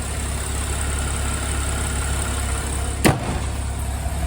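The 3.6-litre, 345-horsepower engine of a 2009 Porsche 911 Cabriolet idles with a steady low rumble, broken by one short sharp click partway through.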